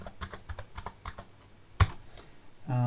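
Password being typed on a computer keyboard, a short run of light, close key taps at an even pace, then a single louder keystroke and a brief rising tone near the end.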